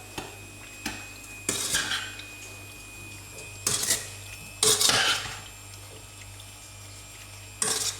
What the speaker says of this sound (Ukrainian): перекладаємо в кастрюлю і будемо проварювати